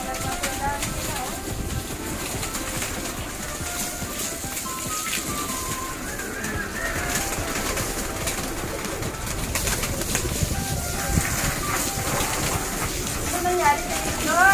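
Pigeons coo softly while being fed around their cleaned cage, with a steady wash of background noise and faint voices in the surroundings.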